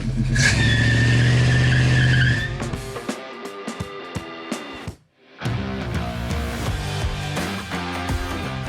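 A car engine roars loudly and steadily, then drops off with a brief gap before revving back up with busy mechanical noise.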